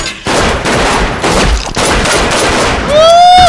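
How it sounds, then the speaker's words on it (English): Gunfire in the Saints Row 2 video game, sustained loud bursts of rapid shots filling the clip without pause, ending with a rising whistling tone over the shooting. "Shoot him in the head, bro."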